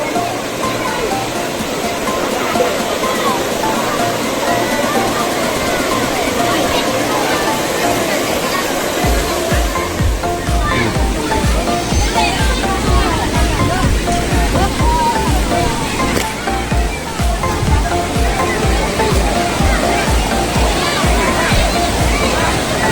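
The Rayap river waterfall in Nisam, North Aceh, roars steadily and loudly up close, a dense continuous rush of churning water with no letup throughout.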